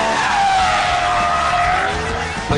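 A 2008 BMW M3 on a race circuit squeals its tyres loudly and continuously, the screech rising and bending in pitch over engine roar, close and alone.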